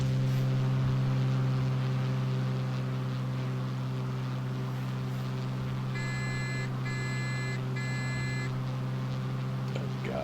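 Cockpit warning beeps in a Carenado F33A Bonanza in Flight Simulator 2024, a short run of repeated electronic tones in three quick bursts over a steady, loud engine drone.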